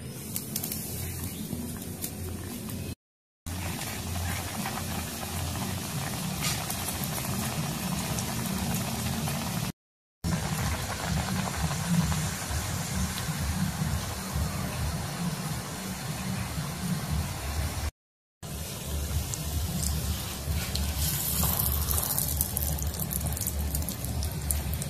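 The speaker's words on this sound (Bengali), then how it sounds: "আমি তেলে ভাজে নিব।" Puri frying in hot oil in a village kitchen, a continuous bubbling sizzle that is moderately loud and close, heard in several segments separated by brief silent cuts.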